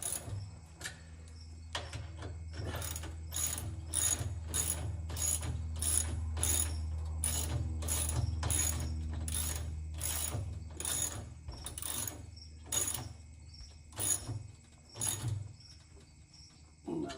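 A hand ratchet wrench tightens bolts on a Westinghouse 9500-peak-watt dual-fuel portable generator, giving a close, regular series of crisp ratcheting clicks with short pauses between strokes and no talking.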